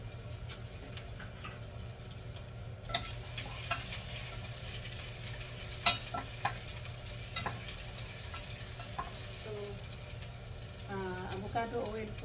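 Garlic and onions sautéing in avocado oil for a chayote and pork dish, a low steady sizzle with occasional stirring clinks and scrapes, fairly faint, with some voices in the background.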